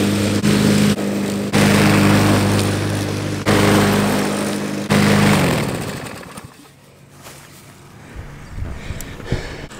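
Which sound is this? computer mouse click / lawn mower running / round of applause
lawn mower running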